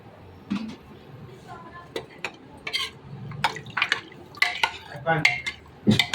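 Metal clanks and scraping of a spoon stirring mutton in a pressure cooker, irregular knocks and clatter at close range, with some faint voices in the background.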